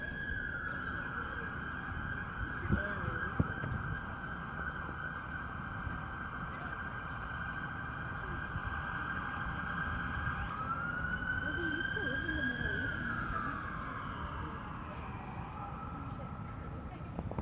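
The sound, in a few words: siren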